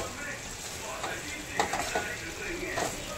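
Cauliflower and potato curry with fresh coriander is stirred in a pan, a close, soft sizzle broken by a few scraping and clinking strokes of a spoon on the pan.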